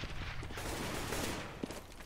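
Gunfire in Counter-Strike during a professional match on de_dust, with a fusillade of shots over a dense, steady background of game noise, one sharper shot standing out near the end.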